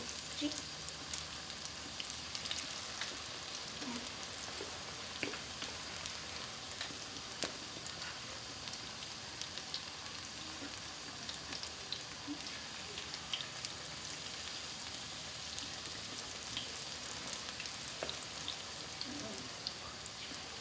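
Chai pakoras frying in hot oil, giving a steady, even sizzle and crackle that runs at moderate volume for the whole stretch.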